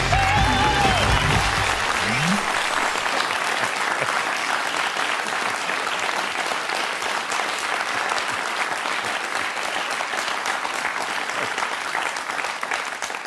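Television studio audience at a German satirical comedy show breaks into loud, sustained applause, a dense, even roar of clapping that follows a brief voice at the very start and continues steadily throughout.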